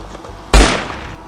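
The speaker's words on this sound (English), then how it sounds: "Oh my god, I just heard a gunshot." A single sharp gunshot-like bang rings out in a forest, loud and sudden, followed by a decaying echo under faint background noise.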